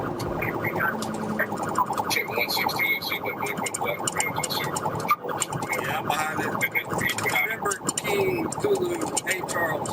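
Police car siren wailing during a highway chase, with a trooper's lights and sirens on, sounding continuously amid dense road and radio noise with voices talking over it.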